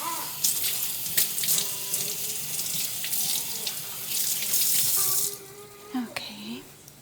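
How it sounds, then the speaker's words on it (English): Tap water runs into a sink while bell peppers are rinsed under it, a steady close splashing stream with brief interruptions and knocks as the peppers are handled, ending as the flow stops. "there's some seeds in here, so I'm just going to quickly wash these."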